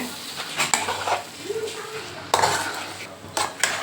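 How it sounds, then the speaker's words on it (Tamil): Egg kothu parotta is mixed with salna, onion and tomato in a pan, giving clanking metal scrapes and spatula knocks in uneven bursts over a low sizzle, close up, with a little voice in the background. "இப்போ நல்லா மிக்ஸ் பண்ணிக்கோங்க இந்த பரோட்டா இந்த சால்னா இந்த வெங்காயம் தக்காளி முட்டை எல்லாம் நல்லா மிக்ஸ் ஆகி வரணுங்க"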